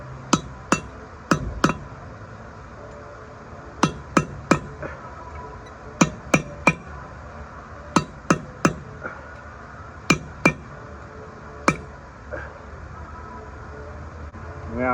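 A hammer tapping evenly around a bearing race to seat it during rear brake work on a 3500 van, giving sharp metallic taps in small clusters of two or three, spaced out over the whole stretch, close and clear.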